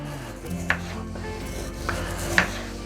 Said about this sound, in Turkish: İnce ince doğruyorum arkadaşlar.